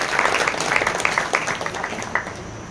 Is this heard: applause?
yes